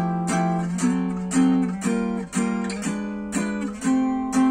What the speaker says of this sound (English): If you hold there, the sound is going to carry on.